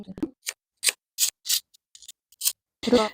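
Scissors snip fabric while cutting the corners of a welt pocket for a child's coat. Short, crisp, close cuts come in uneven bursts with quiet gaps between them.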